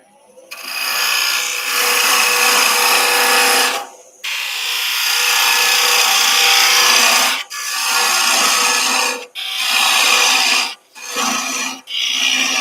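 A wooden egg spinning on a wood lathe as a parting tool cuts it off: a steady, loud scraping whir that runs in long passes broken by short pauses, with speech in the background.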